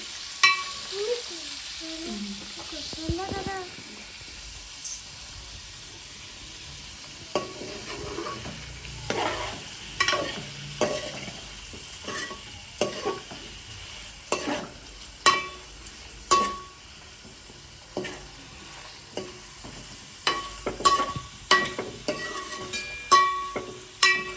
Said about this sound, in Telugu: ఇది గోల్డెన్ కలర్ వచ్చేదాకా ఇలానే కలపాలి